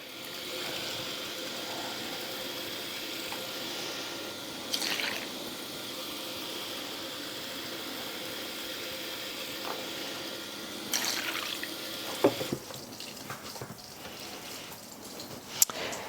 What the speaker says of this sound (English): next I'm going to add my 2 cups of warm tap water